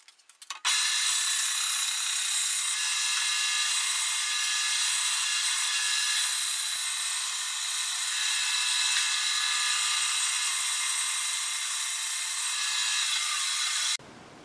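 Wood being trimmed for an ES 335 guitar build: a steady, close, high-pitched power-tool cut runs continuously for about thirteen seconds, then stops abruptly.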